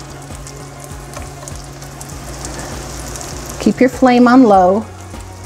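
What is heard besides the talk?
cornmeal mush slices frying in a nonstick skillet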